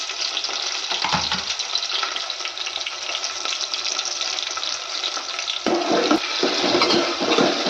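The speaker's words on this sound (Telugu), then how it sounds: "మంచిగా గోల్డెన్ బ్రౌన్ వచ్చే వరకు వేపుకుందాం" Onions and green chillies fry in hot oil for a meal maker curry, giving a loud, steady sizzle with stirring. The sizzle surges briefly near the end.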